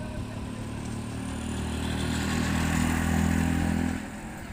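A motorcycle pulling a bike trailer is driven at speed on a rural road, a steady, close engine drone swelling slightly louder before easing off near the end.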